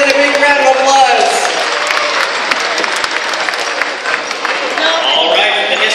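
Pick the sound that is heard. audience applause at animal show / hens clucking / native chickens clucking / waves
audience applause at animal show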